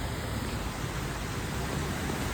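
Heavy monsoon rain in Mumbai, near the Dockyard-CSMT route, roars in a dense, constant wash of noise, loud and unbroken throughout.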